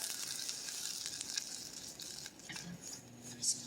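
A spoon or spatula stirs homemade caramel sauce in a pan over medium heat. There is quiet scraping and a soft sizzle, with a few light clinks near the end.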